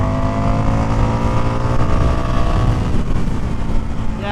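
An Indian FTR 1200 motorcycle engine drones steadily while riding, with a loud, continuous rumble and rushing wind noise throughout and no talk.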